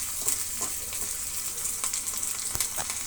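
A tempering of curry leaves, rock salt and onion fries in hot oil for a village-style horse gram sambar, crackling with a constant close sizzle and occasional sharper pops and stirring scrapes.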